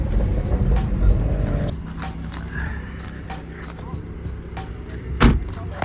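BMW 440i with a B58 engine, new downpipes and a resonator delete gives a deep exhaust burble nearby, fading to a lower rumble partway through, with clicks and a sharp knock near the end.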